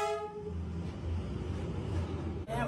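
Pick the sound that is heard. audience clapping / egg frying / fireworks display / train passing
train passing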